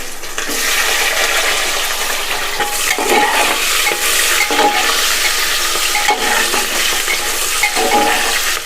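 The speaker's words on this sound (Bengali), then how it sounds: "পেঁয়াজগুলোকে আমি একটু নাড়াচাড়া করে ভালো করে ভেজে নেব" Large-cut onions frying in hot oil while being stirred, a loud continuous sizzle with frequent clattering stirs and scrapes, close and busy without any talk.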